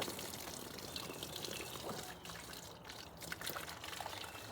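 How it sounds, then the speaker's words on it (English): Tap water runs steadily from a shower-style spray into a container for soaking wheat straw, a quiet, continuous trickling rush with slight shifts in flow and no talking. "I'm gonna run some water."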